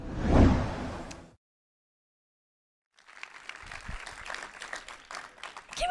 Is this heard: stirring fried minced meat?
no